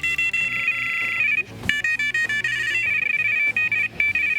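A Carpspirit HD5 carp fishing bite alarm gives off a loud, continuous electronic warbling tone with rapid pulsing beeps that break briefly in the middle and then resume, heard alone without speech.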